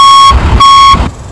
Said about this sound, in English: So what we're doing now is checking the reverse alarm and make sure the backup lights are working properly.